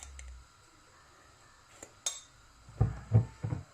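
Metal spoon clinking against a glass while sugar is stirred into plain yogurt lassi, a few light taps early on and then three sharper clinks near the end, close but quiet, with no speech.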